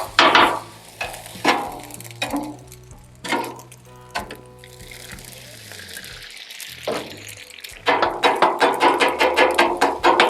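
Chicken fried rice sizzles steadily on a Blackstone flat-top griddle while a spatula scrapes and chops at it. The strokes turn into a quick, loud rhythmic series of scrapes near the end, with someone talking over parts of it.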